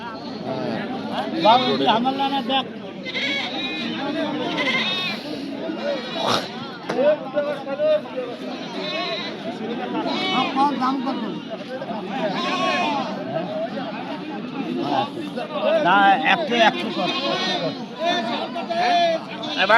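Goats bleat repeatedly amid a busy crowd at a border goat market ahead of Eid al-Adha, with people talking and chattering nearby throughout.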